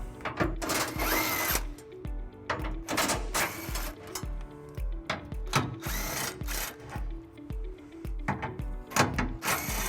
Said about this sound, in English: there is a center bracket that we'll remove by taking out these 4 bolts, and we'll be using a 13mm socket